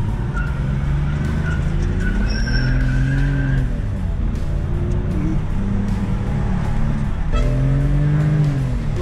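A Hyundai Tucson and a BMW race each other down a straight on a track, engine tones rising and sliding with tire noise, a loud continuous drone with shifting pitch and no talk.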